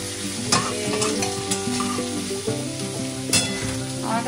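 A tempering of bay leaf, whole dried red chilli and cumin fries in hot oil, crackling and sizzling up close while a spoon scrapes and stirs the pan in several sharp strokes.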